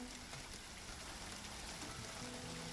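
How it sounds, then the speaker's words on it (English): Steady rain falling in the video game Infinity Nikki, a dense, even hiss of drops spread across the whole clip with faint tonal game music underneath and no talk. "I love how refreshing the cool raindrops feel."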